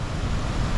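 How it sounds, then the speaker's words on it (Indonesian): Big waves break on the shore at Batu Picah beach in Biak Utara, a steady, loud roar of surf and wind noise without any break. "Ayo ayo datanglah ombak besar."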